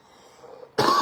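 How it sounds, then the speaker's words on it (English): A single loud, close cough bursts out after a stretch of quiet room noise, from a man hosting a wrestling and sports talk show. "I cough because I'm talking a lot."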